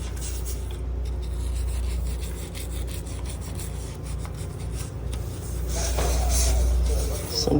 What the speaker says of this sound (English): get the toothbrush and take some of this grime off